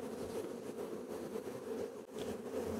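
A swarm of honeybees walks up into a hive, giving off a steady close insect hum and buzz that holds throughout with no talking.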